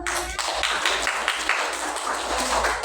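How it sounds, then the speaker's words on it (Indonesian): A classroom of students applauding a classmate, steady dense clapping from many hands close by, sustained for the whole stretch without pause. "Berikan tepuk tangan untuk"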